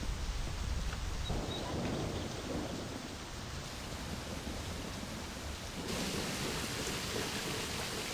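Steady rain with rolling thunder in the video game My Summer Car, a continuous broad hiss of downpour, loud and unbroken throughout with no voices.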